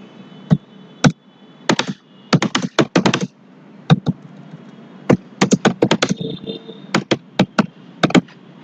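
Keys clatter on a computer keyboard in uneven bursts of close, crisp taps with short pauses between clusters while fruit names are being entered.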